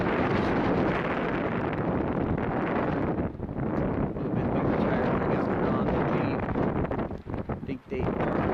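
Strong wind at a campsite buffets the microphone with a loud, continuous low roar and rumble that barely lets up, dipping briefly near the end.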